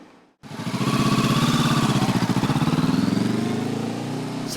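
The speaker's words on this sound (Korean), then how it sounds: "중고 오토바이에 올라타더니 주행을 시작하는커녕 직접 타고 달려봐야 어디가 문제인지 확실히 알 수 있기 때문이라고 합니다" A used motorcycle engine starts up after a brief silence and runs loud and close, a steady throbbing idle with slight revving throughout.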